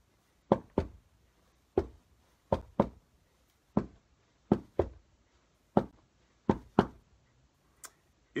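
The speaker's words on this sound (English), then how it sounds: "You might get your feet into the rhythm to sound like this one." Feet stomp out a rhythm on a hard floor, dull thumping hits in short pairs and groups, close by with no voices.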